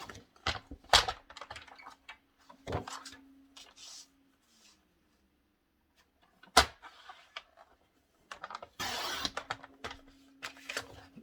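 Paper being sliced on a massicot paper trimmer while making a scrapbook album from a 30x30 sheet: sharp clicks and thuds of the blade, then a longer rasping cut near the end, close and alone.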